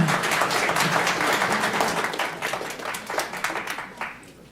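Applause from an audience at an Ogden City council meeting, a dense wash of hand claps that holds steady, then thins and fades toward the end with a few scattered louder claps.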